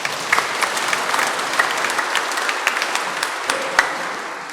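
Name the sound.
applause for the Komsos youth team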